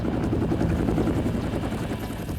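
An approaching helicopter's rotor thumps steadily and loudly throughout, a dense low throbbing drone with no voices.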